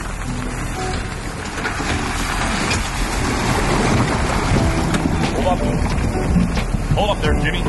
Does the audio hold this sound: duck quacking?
no